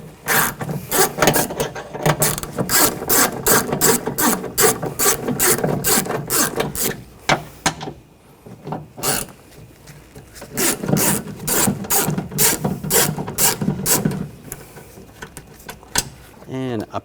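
A ratchet with a 10mm socket backs out the door panel bolts on a 2014–2020 Nissan, giving rapid, repeated clicking bursts close up, with a short pause midway and speech nearby.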